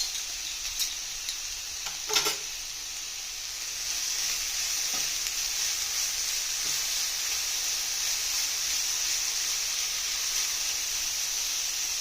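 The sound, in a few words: stirring crushed ingredients frying in coconut oil for pumpkin thoran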